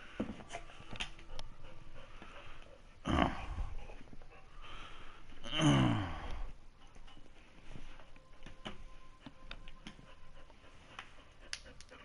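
A dog plays with a foam object at home, panting and snuffling with two louder rustling, squeaky bursts of chewing or tossing amid quieter scuffing, moderately close and faint overall.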